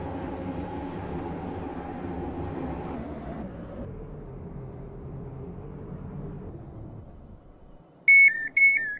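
A Class 345 train in the SCR railway video game runs with a steady electric motor hum that shifts in pitch as it slows, followed near the end by a short, loud electronic door or departure tone.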